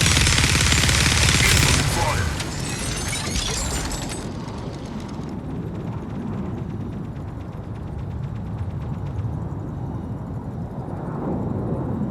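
A dual minigun fires in the video game Onslaught, with a loud, dense burst of rapid fire at first that settles into sustained, grinding mechanical fire under other game sounds.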